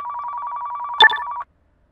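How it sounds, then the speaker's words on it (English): A telephone rings in Car Mechanic Simulator 2015, a steady electronic trill repeating for about a second and a half, with a brief louder burst of clatter partway through before the ringing cuts off abruptly. "You hear the phone ringing?"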